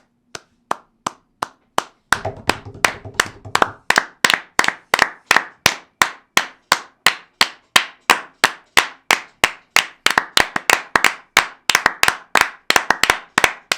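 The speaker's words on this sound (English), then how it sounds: "Why are we clapping?" A handful of people clap in a steady rhythm, each sharp, close clap distinct, with a brief burst of denser clapping early on before it settles back into a regular beat.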